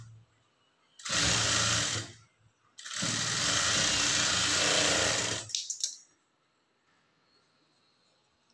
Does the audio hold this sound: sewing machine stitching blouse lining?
yes